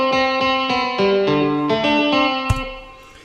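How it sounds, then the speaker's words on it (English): A bright, chorused synth guitar plays a short melodic phrase of plucked notes with shimmering sustain, ending on a sharp hit and fading tail. "this guitar sound is called the guitar Balladeer"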